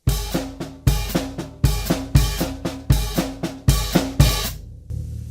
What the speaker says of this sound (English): We'll do one bar of our little funky drum beat